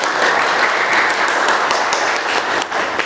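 A class of students applauds in a classroom at their teacher's prompt: a loud, busy patter of many hands clapping together, with a few sharper individual claps standing out and no speech over it.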